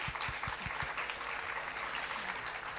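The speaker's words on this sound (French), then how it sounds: "on peut t'applaudir" A roomful of people applauding a speaker at a zero-waste festival talk, steady dense clapping with a few sharp nearby claps at the start, continuing evenly throughout.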